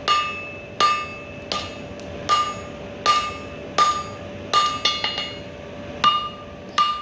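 A blacksmith hammers hot steel to draw out the reins of scroll tongs, giving loud, ringing metallic strikes in an uneven rhythm, some single and some in quick clusters, each with a bright ring trailing off.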